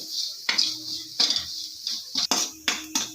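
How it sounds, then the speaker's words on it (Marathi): A utensil stirs spiced masala in a metal pan for peanut amti, giving a series of close, bright scraping and clinking strokes against the pan in an uneven rhythm, with no voices. "आता हा सर्व मसाला व्यवस्थित मिक्स करून घ्यायचा आहे"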